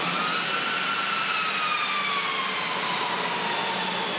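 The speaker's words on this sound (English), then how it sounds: "little CFM giving us a little rev there" An airliner's CFM jet engine revs up at Manchester Airport, a steady broad roar with a rising and falling whine held loud and continuous throughout.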